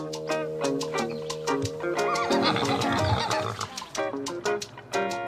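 A horse neighs repeatedly on a family farm in Belize that also keeps pigs and cattle, with loud, drawn-out whinnies rising and falling close by, and no talking over them.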